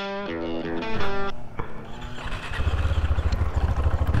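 A KTM 390 Adventure motorcycle engine, first as a tonal revving whine with harmonic steps, then settling into a loud, rapid pulsing single-cylinder thump as the bike idles off road.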